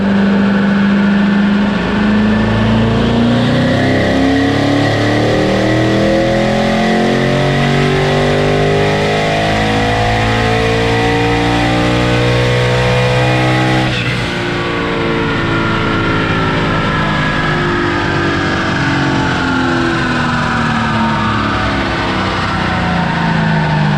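A twin-turbo Hellhorse 2017 Mustang GT runs hard on a dyno, its loud engine climbing steadily through the revs for over ten seconds, then briefly dropping before rising again in a long, sustained roar with no talk.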